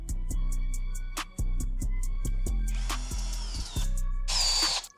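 Power screwdriver driving eccentric screws into a furniture cabinet, a loud close motor whine in repeated short pulses with brief pauses, ending in two longer, harsher runs.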